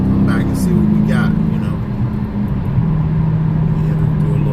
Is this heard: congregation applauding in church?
no